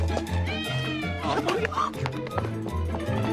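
A cat meows repeatedly, a close, drawn-out plaintive cry with a caterwauling edge, layered over background music and film soundtrack.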